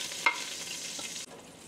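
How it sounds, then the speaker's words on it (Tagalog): Chopped garlic sautéing in a pan, a steady close sizzle with a light stir or utensil tap near the start, the hiss dropping slightly toward the end. "We will gisa the garlic."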